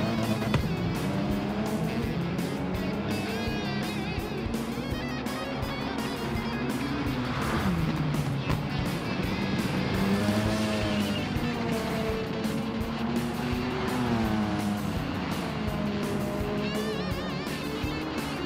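A Ford Focus Gr.B rally car tears around the Sardegna Windmills stage in a racing game, its engine revving loudly and continuously, pitch climbing and dropping through gear shifts across the whole stretch.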